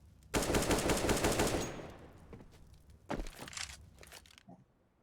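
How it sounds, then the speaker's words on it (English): An AK rifle fires in a Counter-Strike match: a loud, rapid automatic burst up close, then a shorter second volley after a brief pause. "J-Dubs, the big opportunity here at middle, does find 2 headshots with the AK from CT spawn to DD."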